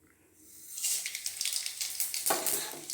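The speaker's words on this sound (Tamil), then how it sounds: "என்ன தாளிக்கணும்னாக்கா கடுகு, பெருங்காயம், வரமிளகாய் இதை தாளித்து கொட்டணும்." Mustard seeds, asafoetida and dried red chillies hit hot oil for tempering, a bright crackling sizzle that rises from near silence and keeps spitting and popping close by.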